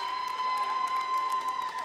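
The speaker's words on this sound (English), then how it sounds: "The crowd cheers her on." A basketball crowd at a girls' high school senior-night game cheers and applauds in a moderate, steady wash, with a sustained tone ringing through the hall.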